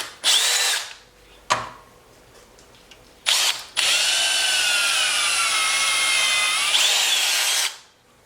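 A power drill boring holes in a wooden frame: a few short bursts and taps, then a long steady whining bore that rises in pitch before stopping, close and loud.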